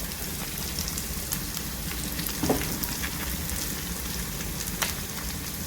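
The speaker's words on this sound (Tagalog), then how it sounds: "Tamang gisa-gisa lang." Cuttlefish sautéing in a pan for pasta, giving a steady, continuous sizzle and crackle at moderate level with no talking.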